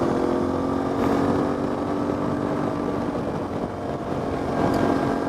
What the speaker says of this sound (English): today I figured I'd just put some miles on the bike so I get a little more familiar with riding it